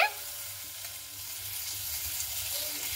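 Potatoes frying with masala, salt and turmeric sizzle steadily in a pan while being stirred, a close, even hiss with no voices.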